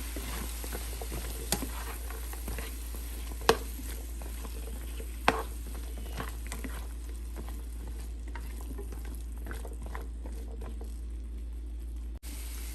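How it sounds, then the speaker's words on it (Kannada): Vegetable kurma with tomato being mixed in a pan, a low steady sizzle over a constant hum with occasional sharp spoon knocks against the vessel, close and without talk. "ಚೆನ್ನಾಗಿ ಮಿಕ್ಸ್ ಮಾಡೋಣ"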